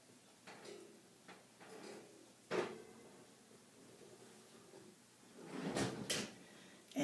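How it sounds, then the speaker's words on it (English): A home oven door opens and closes with a couple of loud clunks and a softer rattle as a pumpkin pie goes in, close by in a quiet kitchen. "let's open our oven and get this in there"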